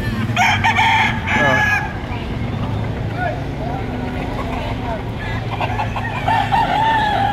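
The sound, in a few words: roosters crowing and chickens clucking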